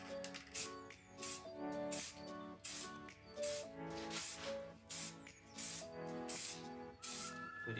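Spray paint lightly dusted onto a Ford Focus ST alloy wheel during a refurb, heard as a series of short, close hissing bursts in an irregular rhythm, with faint clicks between the sprays.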